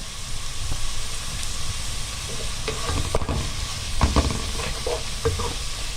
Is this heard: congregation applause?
no